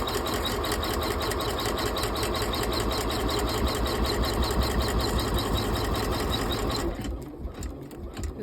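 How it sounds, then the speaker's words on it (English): An embroidery machine stitches out a zipper purse held in a hoop, its needle hammering in a fast, steady mechanical rhythm at close range before the motor winds down and stops near the end. "With your hoop back on the machine, stitch out step 4"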